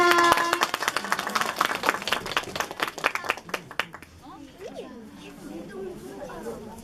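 At a kindergarten graduation, a room of parents claps in a brisk burst of many hands that fades out after about four seconds, leaving children's chatter and voices in the background.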